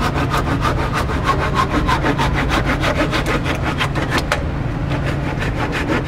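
Wooden dowels being made for fastening holes during the Mayflower II ship repair, a loud, fast rhythmic rasping like sawing or shaping wood with a steady mechanical drone beneath it.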